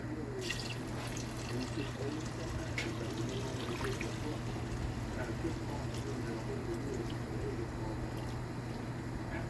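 Water pours steadily into a pressure pot of cooking beans and meat, a continuous splashing wash lasting throughout over a low constant hum, with no pauses or talk.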